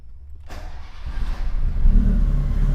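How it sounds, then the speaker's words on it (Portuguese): A car fitted with ALPHA 4 programmable fuel injection and a stepper-motor idle actuator cranks briefly, then fires and settles into a loud, steady idle close by. "Eu vou estar ligando o carro aqui para vocês."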